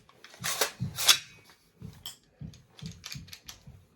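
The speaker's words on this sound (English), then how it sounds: "bolt release" The bolt release on a SIG Sauer 716I TREAD rifle gives a few small, close metallic clicks and snaps, first two louder ones, then a string of lighter clicks.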